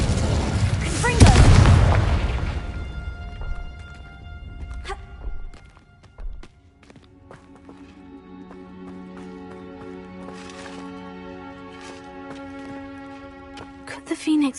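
Explosion from the Confringo spell in a Harry Potter video game: a loud, heavy boom with a rumbling tail, then lighter game effects, thuds and musical tones, with speech also present.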